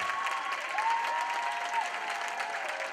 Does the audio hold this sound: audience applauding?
yes